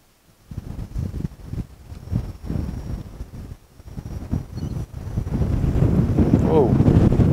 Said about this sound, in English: Oh, it is getting windy.